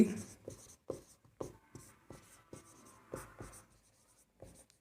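Chalk writing on a board during a Hindi-medium class 10 math lesson on real numbers, with a run of distinct taps and scratchy strokes in an uneven rhythm, close and clear, with no talk over them.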